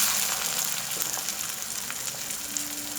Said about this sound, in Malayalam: ഇതിലേക്ക് ഞാൻ ഒരു നുള്ള് പെരുംജീരകം, വലിയ ജീരകം ഇട്ട് കൊടുത്തിട്ടുണ്ട്.